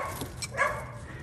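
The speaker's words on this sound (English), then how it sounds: "Puppy is in her box and she's not happy about it." A puppy kept in her box whimpers unhappily, giving a couple of short, high whining yelps, with a brief louder cry in the middle, fairly close in a quiet room.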